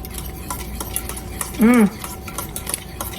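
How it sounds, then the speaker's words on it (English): A whisk stirs apple dumpling sauce ingredients in a bowl, giving steady scraping and clinking across the stretch, with a short tonal squeak or voice-like sound in the middle. "whisk to incorporate all those goodies"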